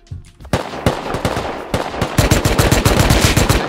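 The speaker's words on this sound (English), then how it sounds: "I shot him." Gunfire in a shooter video game: a few sharp single shots, then dense rapid automatic bursts that grow louder and more continuous toward the end, close and loud.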